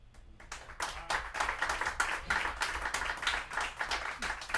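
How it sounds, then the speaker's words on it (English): Steady hand clapping in a recorded music mix at a studio, a run of close, sharp, rhythmic claps with a roomy, slightly heavy tone and no voices over it. "Let's just check it for the clapping"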